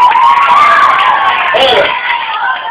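Children cheer and shout for a young champion at a clown's party show, a loud close burst of excited voices and whoops, with clapping not clearly separate in the din.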